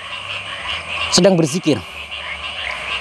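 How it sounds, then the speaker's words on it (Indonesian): Frogs croak outdoors, a loud burst of throaty, rippling croaks in the middle of the stretch, with a person speaking briefly over them. "Ini suara kodok enak juga ya didengar ya."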